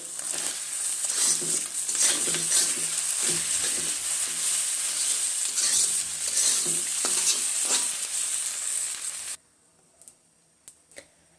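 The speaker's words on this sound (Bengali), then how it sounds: "এটাকে আমি আস্তে আস্তে একটু ভেজে নিই" Egg for noodles fries slowly in a pan, a close, continuous sizzle broken by repeated scraping strokes of a spatula, until the sound stops abruptly near the end.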